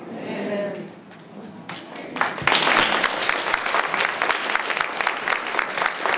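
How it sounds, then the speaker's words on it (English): Audience applause at a women of color entrepreneur conference after a reverend's prayer, beginning with a brief voice then swelling into dense, sustained clapping from a large indoor crowd. "Let's give Reverend Moore another round of applause for that prayer as well as introduction"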